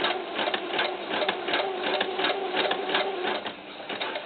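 A sewing machine stitching a doll camisole runs steadily, its needle producing a fast, even mechanical chatter that holds close and continuous throughout with only slight dips in speed.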